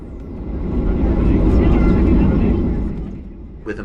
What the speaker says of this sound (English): I thought I'd include the takeoff on our return too,